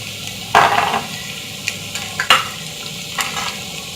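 Spices being stirred into chicken macaroni in a pan, with a few distinct scraping strokes of the spoon over a soft background sizzle and no talking.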